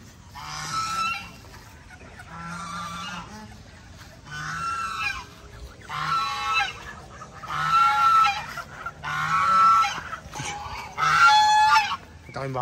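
A flock of geese honking loudly in repeated noisy bursts every couple of seconds, close by, with overlapping raspy calls.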